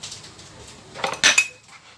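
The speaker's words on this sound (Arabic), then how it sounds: "نقطعها بوتي مورسو هكذا" A knife chops tripe into small pieces on a board, giving a few quick knocks and clinks of metal against the surface mid-clip, fairly close, with quiet kitchen background before and after.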